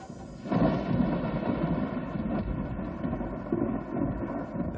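Thunder from a lightning strike, a loud sustained low rumble that rolls on for several seconds with wind-like noise, beginning under a fading tonal sound.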